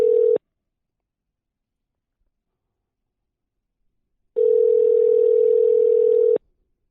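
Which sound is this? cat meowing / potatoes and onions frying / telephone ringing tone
telephone ringing tone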